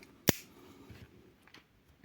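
A single sharp metallic snip from Victorinox scissors rings out near the start, followed by quiet, faint handling sounds.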